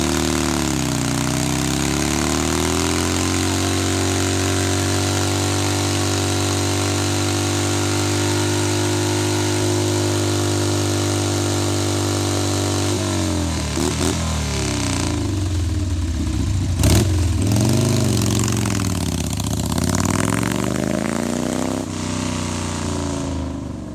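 A motorcycle engine left unused for about two and a half months runs steadily at a close, loud idle, then dips and rises in pitch with a few throttle changes toward the end, with no voices.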